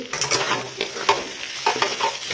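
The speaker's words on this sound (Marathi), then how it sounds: "मटारला थोडंसं असं परतून घ्यायचं आहे दोन मिनिट" Peas (matar) sautéing in a pan with garam masala: close, repeated scraping stir strokes over a light, steady sizzle, with no talking.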